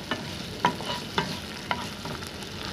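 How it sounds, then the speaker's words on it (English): A spoon stirs ginger garlic paste frying over a low flame in a pan, giving regular soft scraping strokes about every half second over a faint sizzle. "Stir this well."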